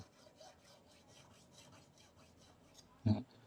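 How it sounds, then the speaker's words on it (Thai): Quiet, rhythmic rasping strokes of a triangular fret file cutting a guitar fret repeat steadily, ending with a soft thump. "ให้เราเริ่มเอียงตะไบขึ้นเรื่อยๆนะจนเราเริ่มได้ยินเสียงของการกิน เนื้อเฟตนะครับผม"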